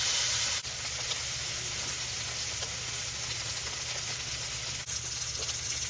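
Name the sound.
filet mignon steaks searing in a pan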